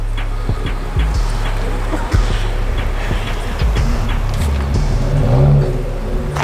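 A car called Bandit pulls away after dark, its engine a steady, close, low rumble that swells slightly as it gets moving, with scattered clicks and road noise over the top.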